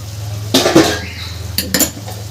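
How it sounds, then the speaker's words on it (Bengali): A thin metal plate used as a lid is lifted off a pan of spinach and lentil curry, giving two short clattering metallic clinks about a second apart over a low steady hum, close and fairly loud. "দু মিনিট পর ঢাকনাটা সরিয়ে দিচ্ছি"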